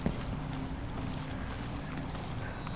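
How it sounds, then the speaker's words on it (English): Steady clip-clop of horse hooves in the video game Dishonored 2, at a moderate pace, fairly close, over a constant low background hum. "Is that a horse?"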